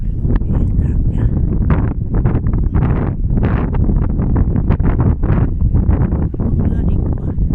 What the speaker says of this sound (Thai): เป็นลมแห้งคักจ้ะ